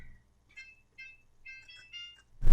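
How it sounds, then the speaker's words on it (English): Short electronic beeps from a kitchen timer being set for seven minutes while cooking tikka masala: a few brief, well-spaced tones, then a quicker run of beeps, ending in a sudden loud burst of noise. "I'm just going to put the timer on for 7 minutes"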